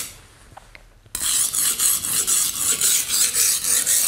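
A kitchen knife being sharpened, pushed backwards and forwards in a steady rasping rhythm. The strokes come close and fairly loud and start abruptly after about a second of near silence.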